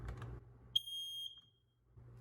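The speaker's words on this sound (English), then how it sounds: "we're gonna start with the household smoke alarms like these throughout the house" A household battery-operated smoke alarm gives a single short, piercing test chirp. Quiet room noise and faint handling sounds can be heard before and after it.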